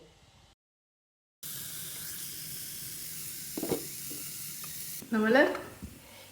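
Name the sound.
appam cooking on two pans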